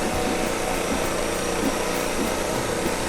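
An electric pasta machine rolls a sheet of floured dough for honey goat cheese caramelle, giving a steady loud motorized whir with a faint rhythmic pulse and no pauses.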